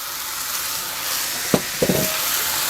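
A few oysters dropped into a hot pan on high heat for a Chinese-style oyster soup give steady sizzling, with two or three sharp crackling spurts as they land. No voices.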